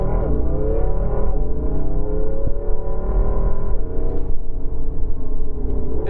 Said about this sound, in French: Hop, on va se faire un petit launch control dans une petite ligne droite.